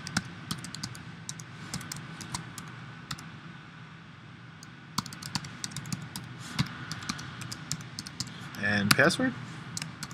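Someone types an email address and password on a computer keyboard, producing scattered light key clicks across the clip, with a brief burst of talking near the end.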